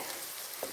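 Onions sauté in a pan for a white prawn curry, giving a brief, faint, steady sizzle with a soft stir, heard alone at close range.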